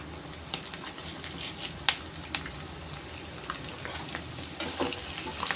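Ray fish and curry leaves fry in hot oil, a close, crackling sizzle full of sharp spitting pops, steady throughout with occasional louder bursts and no talking.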